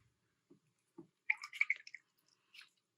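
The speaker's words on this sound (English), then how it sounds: "I will put a little bit more ink in here just so we can hopefully see some undertones." Montblanc fountain pen ink drips into a small dish of water, making a few soft, sparse plinks followed by a quick cluster of tiny wet drips and splashes. The sounds are quiet and close, with silence between them.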